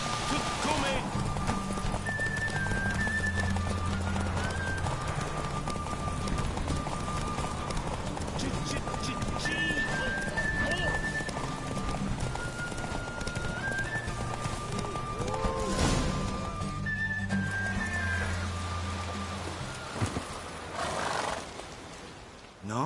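Horses galloping in a video game race, with continuous clip-clop hoofbeats and occasional neighs under a game soundtrack and character voices, loud and sustained throughout.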